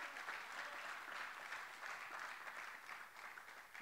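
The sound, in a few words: applause for God's name in church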